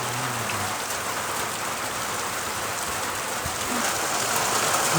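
Heavy rain pours down steadily at Ambanad in Kerala, a dense, continuous hiss of rainfall drumming on surfaces with no pause, loud and close throughout.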